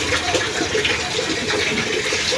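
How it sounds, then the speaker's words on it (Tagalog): Water gushing steadily into a container, a continuous close splashing pour without pauses. "Dagdagan mo lang tubig."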